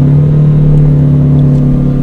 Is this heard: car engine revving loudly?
yes